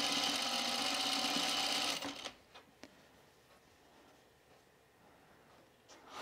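A sewing machine stitches down the middle of the binding on pajama bottoms in a bright, rapid two-second burst, then stops, leaving quiet room noise with a few faint clicks and handling sounds.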